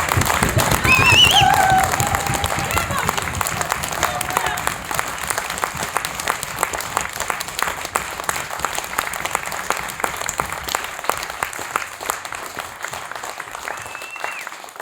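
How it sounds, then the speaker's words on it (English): A crowd at an Enough is Enough rally in Ellesmere Port claps, cheers and shouts in tribute to firefighter Barry Martin, a loud sustained roar of applause with whistles and voices that eases slightly over time. "take a moment now to celebrate our brother, firefighter Barry Martin, by clapping, cheering, shouting and generally making as much noise as possible"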